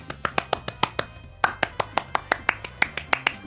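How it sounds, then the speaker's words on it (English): Applause sound effect from the video game Deltarune: a steady train of sharp, evenly spaced claps, loud and close, with a short pause partway through before the clapping resumes. "Applause!"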